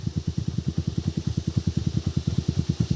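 A motorcycle engine idles steadily up close, its even, rapid pulses keeping a regular beat throughout with no talking over it.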